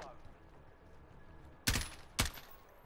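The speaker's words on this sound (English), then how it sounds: "It's me shooting, by the way." Two sharp, loud gunshots crack out about half a second apart in Call of Duty: Warzone, standing out against a faint, quiet background.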